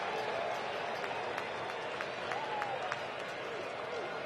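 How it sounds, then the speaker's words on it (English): Restless crowd murmur and scattered clapping fill a baseball stadium during a Phillies at Braves NLDS playoff game, a steady wash of distant voices with faint whistles, no single voice standing out. "Anxious crowd here."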